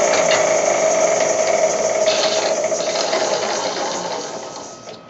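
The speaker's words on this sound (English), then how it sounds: "Use my small skew for that." A small skew chisel cuts wood turning on a lathe, giving a steady close whirring and scraping hum that holds level and fades at the end, with no voices.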